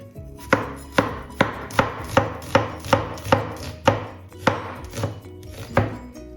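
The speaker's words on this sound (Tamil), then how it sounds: "வெங்காயத்தை வந்து நீளமாக தான் நாங்கள் இதுக்கு வெட்ட வேணும்" Onions cut lengthwise with a knife on a board for puliyanam: a steady series of about a dozen crisp, close chopping strikes at an even rhythm, each with a short slicing rasp, alone with no talk.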